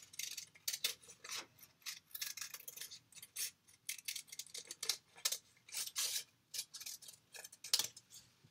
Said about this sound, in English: I'm actually using that hand to turn the paper as I'm cutting